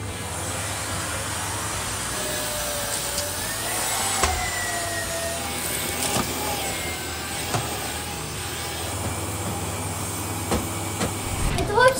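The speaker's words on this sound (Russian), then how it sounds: "Вот мой пылесос" A vacuum cleaner runs continuously while a room is cleaned, a steady whining drone with shifting pitch as it moves, bumps and clicks now and then, and a voice talking over it.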